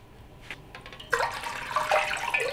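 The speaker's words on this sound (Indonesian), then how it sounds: "Saya tuangkan air secukupnya" Water is poured into a pot for beef soup, starting faint and then becoming a loud, steady splashing gush that runs on to the end.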